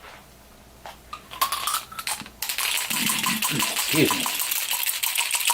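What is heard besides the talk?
dice rolled for APBA Golf tabletop game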